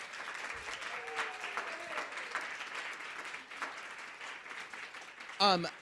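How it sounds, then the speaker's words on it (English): Applause for the panelists at an arts education forum, a soft steady patter of many hands heard from a distance, fairly faint, with voices murmuring underneath and a brief louder sound near the end. "can we get a round of applause for our panelists?"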